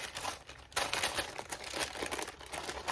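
Paper being handled and crinkled while making a banana cream pie, a continuous close rustling and crackling that grows louder partway through, with no talk.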